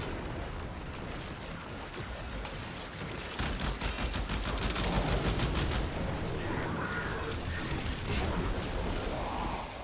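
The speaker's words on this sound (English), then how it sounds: "Shoot the man till he dies." Sustained gunfire in the game Warframe, dense rapid shots running continuously and growing heavier after a few seconds, with mechanical clatter in the mix.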